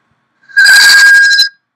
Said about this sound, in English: Wires the call, starts ringing my other browser.